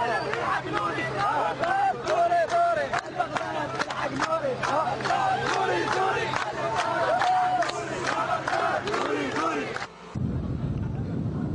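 Crowds cheering and shouting in the streets of Baghdad during the city's liberation, a dense roar of many voices and whistles lasting about ten seconds before cutting off abruptly.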